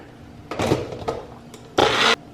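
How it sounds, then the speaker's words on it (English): A blender or Magic Bullet purees boiled vegetables with a little cooking water, whirring in short loud pulses with brief pauses between, close by. "When I put them in the magic bullet or in a blender, just add a little bit of the boil water so that there's enough liquid to spin it around in the machine."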